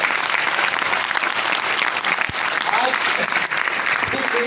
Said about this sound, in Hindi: सो एक जोरदार ताली आपको दीजिए।